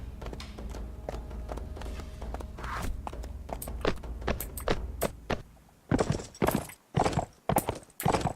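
Horse hooves clip-clop in Mount and Blade Warband, a steady run of hoofbeats for several seconds, then sharper, louder separate hits with short gaps toward the end.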